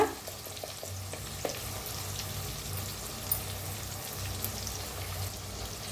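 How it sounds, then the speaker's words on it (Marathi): Chili powder, coriander powder, masala and turmeric roast in hot oil with chopped tomato for dal dhokli, giving a steady, close sizzling crackle with faint stirring scrapes throughout. "लाल तिखट धना पावडर मसाला भाजून घेऊया"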